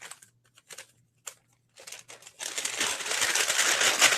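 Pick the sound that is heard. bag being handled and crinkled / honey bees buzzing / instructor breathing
bag being handled and crinkled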